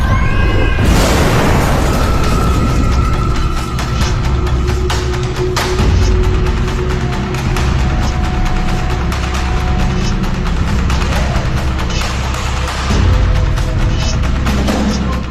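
Explosions from a tank attack on a building, staged in an AI-made film about 1984, loud continuous booms and bursts with a dense rumbling low end and sharp blasts throughout, no talking.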